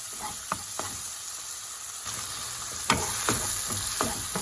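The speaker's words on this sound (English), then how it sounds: "We keep cooking it until the tomatoes are fully cooked and all its juices are starting to come out." Tomatoes and onions sizzle in a pan for a pinto bean side dish while a utensil stirs them in repeated scraping strokes over a continuous frying hiss.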